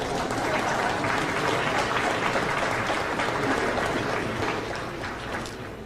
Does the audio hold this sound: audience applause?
yes